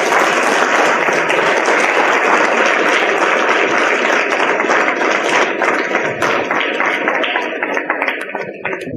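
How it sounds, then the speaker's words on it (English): Loud, sustained applause from a lecture audience at the close of a talk on artificial intelligence, a thick continuous wash of clapping that softens slightly near the end. "we'll end with a huge applause."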